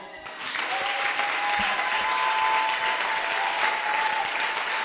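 A church congregation applauds and cheers at a French-language Christian service, steady and fairly loud clapping from many people that fills the whole stretch after a brief quiet start.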